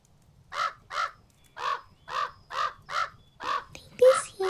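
A crow in the video game Pumpkin Panic gives a steady series of about eight harsh, evenly spaced caws, loud and close, ending with a brief overlapping sound.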